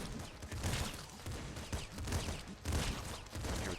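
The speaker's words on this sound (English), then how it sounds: "Here with the golden shotgun." The golden shotgun fires in the top-down shooter Nuclear Throne, giving repeated punchy blasts in quick succession over busy game noise, with no voices.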